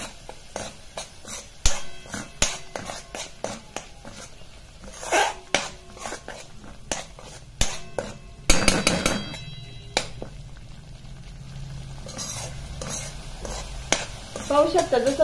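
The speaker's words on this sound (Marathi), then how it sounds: "हे कंटिन्युअसली हलवत राहायचंय, नाही तर मग तो मसाला आहे तो लगेच खाली चिपकून बसतो" Masala for Punjabi chole fries in oil in a pan while a spoon stirs it continuously, making loud clattering scrapes against the metal over a steady sizzle, with brief bursts of louder frying.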